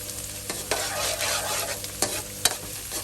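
Chopped onion and garlic hissing in a frying pan for lumpiang sariwa, a steady close sizzle punctuated by several sharp scrapes and knocks of stirring, with no talking.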